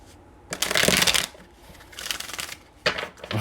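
Tarot cards shuffled by hand in a few close, rustling riffle bursts separated by brief pauses, with no speech.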